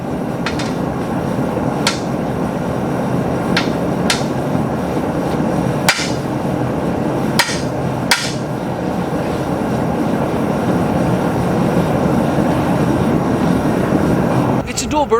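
Dual burners on a cheap gas forge roar in a loud, steady rush close by, broken by several sharp metallic knocks.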